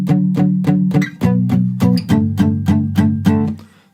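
An electric or acoustic guitar plays the verse of a song in a clear, even strummed rhythm of repeated chords, close and loud, fading out at the end with no talking.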